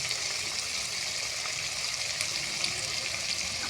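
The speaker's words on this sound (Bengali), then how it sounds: "ভালো করে লাল লাল করে ভাজি নেব বন্ধুরা" Ground spices with salt, turmeric, cumin and chili powder fry in a pan, giving a soft continuous hiss and crackle, steady and fairly quiet, with no voices.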